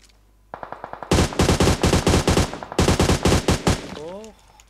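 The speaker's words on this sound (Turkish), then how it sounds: "Bir tane Rus'u vurdum sonunda" Automatic gunfire from the mobile battle royale game PUBG Mobile, loud close bursts of rapid shots in two long volleys with brief gaps, ending in a rising electronic tone.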